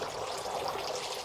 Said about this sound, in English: You can see the circle of water from the splashes as it kind of sprinkles out.